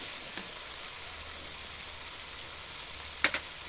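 Garlic sizzles in a pan of sautéed onion, giving a steady bright frying hiss with a couple of brief stirring clatters near the end.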